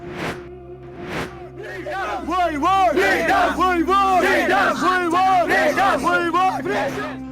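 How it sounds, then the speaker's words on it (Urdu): Protesters in a Kashmir street chant slogans for freedom and against Indian state terrorism, a loud crowd of voices shouting in rhythmic unison after two short opening calls, with some babble mixed in. "انہوں نے بھارتی ریاستی دہشت گردی کے خلاف اور آزادی کے حق میں نعرے لگائے"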